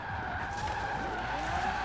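A Lamborghini Aventador J drifting sideways in Forza Horizon 4, its tires skidding and squealing in a continuous screech over a steady engine drone, loud and close throughout.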